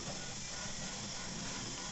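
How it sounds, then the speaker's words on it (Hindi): HP Smart Tank 580 wireless all-in-one printer starting a print job, giving a steady, faint mechanical whir and hiss that holds evenly throughout without pauses. "तो अभी जैसा आप देख सकते हो प्रिंटर जो है वो शुरू हो गया।"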